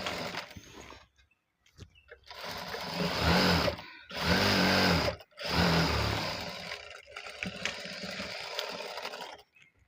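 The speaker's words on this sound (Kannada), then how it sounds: "ಮತ್ತು ಇಲ್ಲ ಇನ್ನೂ ಒಂದು ಸ್ಟಿಚ್ ಹಾಕ್ಕೊಳ್ಳಿ" An electric sewing machine stitching the sleeves of a churidar top, running in several loud continuous bursts separated by short pauses, close and mechanical with a steady whirring drone.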